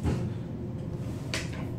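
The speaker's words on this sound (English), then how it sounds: "shutting the door." Upper-deck door of an Otis double-decker elevator at First Canadian Place in Toronto sliding shut: a steady mechanical rumble with a brief bright clunk near the end, close by.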